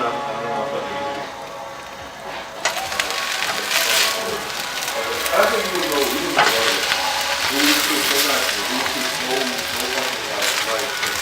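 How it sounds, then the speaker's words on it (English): Kale sizzles and crackles in a pan with rice wine vinegar, garlic and onions, a busy steady frying hiss that jumps louder partway through as the food is stirred, with voices talking over it. "You can hear that sizzle."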